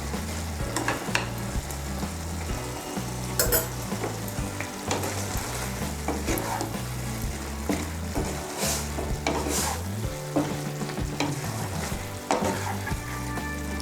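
Ghee being stirred into spiced mung dal with lentil badi for a Bengali cauliflower ghonto, a steady sizzle under repeated scraping and mixing strokes, close and continuous with no voices.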